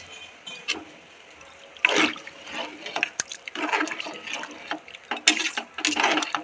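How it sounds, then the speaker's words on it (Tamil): Water splashes and gurgles into a pot for chicken biryani in uneven pours, close by, with a few clinks of the vessel between streams. "அஞ்சு டம்ளர் தண்ணி ஊற்றியாச்சு"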